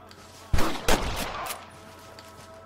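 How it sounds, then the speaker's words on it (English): Several loud gunshots crack in quick succession in the video game Red Dead Redemption, sharp bursts separated by brief gaps, with echoing tails and another shot at the very end. "I can hear more gunshots"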